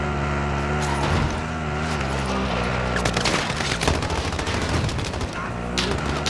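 Bursts of automatic gunfire in Call of Duty Modern Warfare crackle loudly and densely over a rumbling vehicle engine, a rapid sustained fusillade in the middle of the clip, with no talking.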